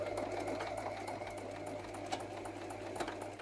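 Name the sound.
sewing machine stitching a weekend bag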